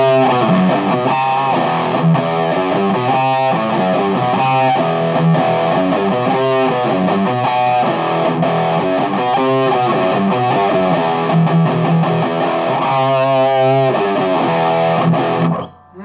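An electric guitar plays riffs and chords through a Boss DS-2 Turbo Distortion pedal with the distortion control near three o'clock, giving a loud, continuous gritty crunch that cuts off abruptly at the end.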